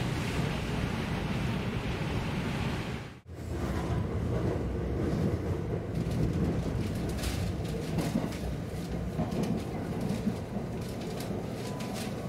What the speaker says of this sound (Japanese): 電車は東岸和田駅に到着しましたが、接続や待避はないためすぐに発車します。